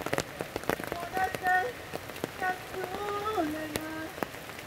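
Steady outdoor rain pattering on surfaces, a soft continuous hiss with scattered drops, fairly quiet, with a faint voice and other tonal sounds in the background.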